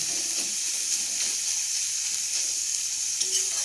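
Sliced onions fry in hot oil for bonda, a steady, moderately close sizzle with soft bubbling and faint stirring scrapes throughout.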